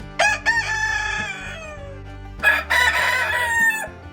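A rooster crows loudly twice, long wavering calls with a short gap between them, and chickens cluck softly in the background.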